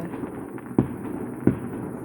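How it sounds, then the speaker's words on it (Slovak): Firecrackers bursting outdoors, two sharp loud pops about a second apart over a steady background hiss. "ak sú krásne petardy"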